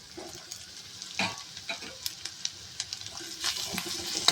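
Green chilli garlic paste frying in a pan, a steady crackling sizzle with occasional louder scrapes and clinks as it is stirred, close up.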